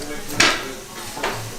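A knife chops garlic on a cutting board with two distinct sharp thuds, about a second apart, over a faint room background.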